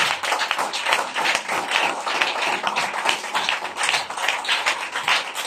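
A church congregation claps hard and steadily at an evening service, the dense, continuous applause sustained and loud throughout with no voices breaking through.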